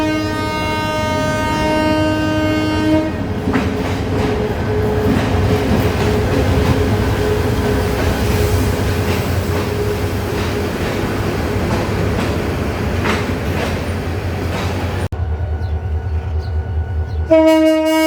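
Nasirabad Express pulling out of platform 1 at Mymensingh Junction, bound for Chattogram: a loud horn blast opens, then close rumbling and clattering of passing coaches, and a second horn sounds near the end.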